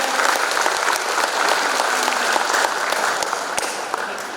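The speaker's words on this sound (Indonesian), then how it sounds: "Boleh kita sambut dengan meriah sesi terakhir ini dengan tepuk tangan yang lebih meriah." Parents and guests at a fifth-grade girls' class performance applaud to open the final session, a loud, sustained crowd ovation with even intensity throughout.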